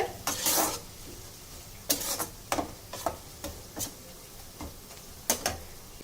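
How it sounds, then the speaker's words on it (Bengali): A spoon stirs spice paste in hot oil in a pan, giving quiet, intermittent scrapes and taps at an uneven rhythm over a faint background hiss. "যতক্ষণ কাঁচা গন্ধ ভাবটা না যাবে, ততক্ষণ আমি তেলের মধ্যে একটু নাড়াচাড়া করে নেব"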